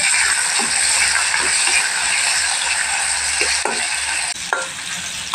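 Prawns fry in mustard oil with salt and turmeric, a loud close steady sizzle with a few scraping stirs and clinks of a spatula in the pan.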